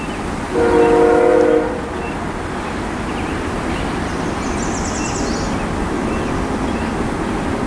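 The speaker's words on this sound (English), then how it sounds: "No, it's a freight train. Good cue on the horn." A freight train sounds its horn once in the distance, a sustained chord lasting about a second, then a steady low rail rumble carries on beneath a faint birdlike chirp.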